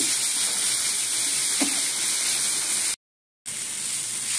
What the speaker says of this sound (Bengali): লঙ্কার ফোড়ন দিয়েছি।